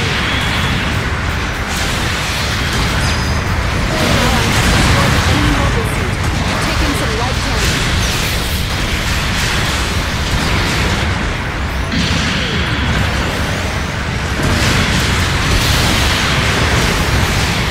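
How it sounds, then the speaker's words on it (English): Long-range supporting fire explosions in the mobile suit game Gundam Battle Operation 2: a dense, continuous barrage of booms and rumbling blasts, loud and unbroken, with game voice announcements mixed in. "Long range supporting fire incoming."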